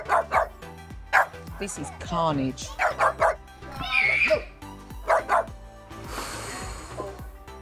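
Feisty puppies bark and yap in quick, high-pitched bursts with some whimpering, close by and mixed with a person talking over them.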